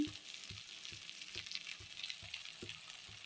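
Spice masala frying in a pan, a soft steady sizzle with faint regular scraping knocks of stirring about twice a second, no talking.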